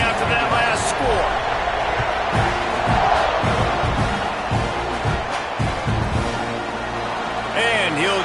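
A college football stadium crowd roars and buzzes after a score, a dense steady wall of cheering with whistles and shouts, while a commentator talks over it.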